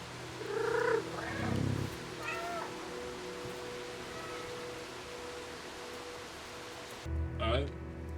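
A cat in the video game Stray gives several close, clear meows, with a soft purr underneath and a quiet rainy ambience behind.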